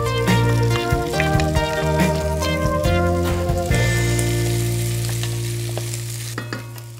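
Red onions and the white parts of spring onions sizzle steadily in a hot pan, a close, bright crackle with occasional stirring clatters, gradually easing toward the end.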